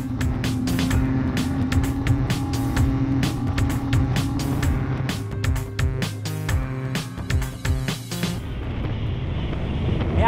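Ranieri Cayman 38.0 Executive motorboat accelerating hard, a loud steady engine roar with rushing water and wind buffeting and rapid slapping knocks from the hull cutting through waves.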